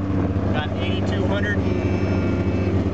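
A 2000 Polaris XC600 snowmobile idles with a steady, close two-stroke drone, while someone speaks briefly over it.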